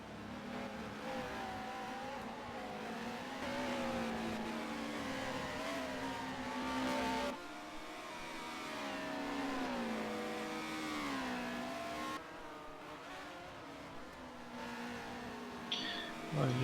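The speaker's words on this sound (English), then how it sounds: "Notice the engine sound seems to be just a little bit low." Touring car engines racing at Oulton Park in the 1996 British Touring Car Championship, a steady loud drone of revving mid-pitched engines rising and falling through gear changes with occasional whir, continuous throughout.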